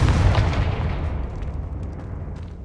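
A Confringo blasting spell explodes in Hogwarts Legacy, a video game: a loud, booming burst at the start that rumbles and slowly fades over a couple of seconds, with faint crackles trailing in the tail.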